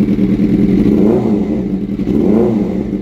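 Suzuki GSX-R 600cc sports bike misfiring while revved: a rough, uneven engine drone that rises and falls twice, with sputtering irregular firing, loud and close.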